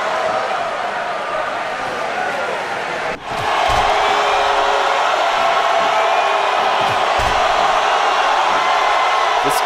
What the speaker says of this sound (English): This crowd is freaking out